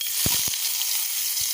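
Onion, garlic and chillies hit hot oil, setting off a bright, continuous sizzle with a couple of short clinks at the start.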